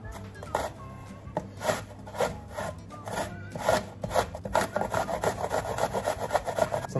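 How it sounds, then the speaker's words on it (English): Apples being grated by hand on a coarse grater, giving repeated rhythmic rasping strokes that speed up toward the end, close and fairly quiet, with a voice heard faintly at times. "So we need to grate the apples."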